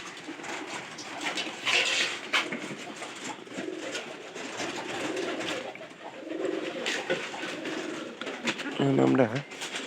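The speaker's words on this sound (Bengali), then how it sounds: "ইয়ার কবুতর আসছিল।" Pigeons that had been sold and flew back to the loft coo repeatedly, soft rolling calls close by, with people talking quietly in the background.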